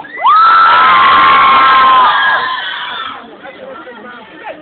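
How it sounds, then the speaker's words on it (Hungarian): Children shout and cheer together during a vote, a loud burst of rising whoops and yelling that holds for a few seconds, then fades into scattered chatter. "Mindenki kiabál."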